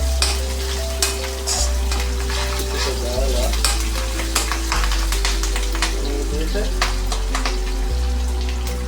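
Chillies frying in a pan for an Indian-style egg roast, a steady close sizzle with crackling pops and occasional stirring, under a low sustained musical drone.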